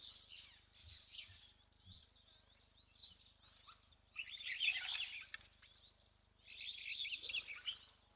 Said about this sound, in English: That looks like a cutthroat finch to me.